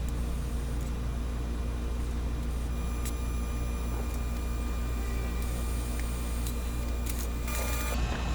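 An Epson ink tank printer runs a head cleaning cycle, giving a steady low mechanical hum and whir with faint clicks and a brief higher burst near the end, heard alone without talk.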